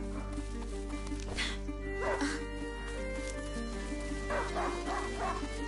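A hunting dog in A Plague Tale: Innocence barks and whimpers several times with short yips, set over a steady droning game music bed and ambience, moderately loud, with no talking.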